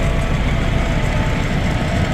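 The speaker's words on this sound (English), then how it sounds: "the first tractor is going to be very ear-piercingly loud" A Single Engine Modified pulling tractor roars loud and steady at close range, a dense continuous engine drone with no breaks.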